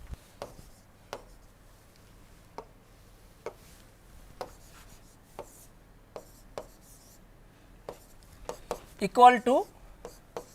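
Chalk or pen tapping and scratching on a board during a thermodynamics lecture, sparse sharp strokes spaced a second or so apart, with a lecturer speaking briefly near the end.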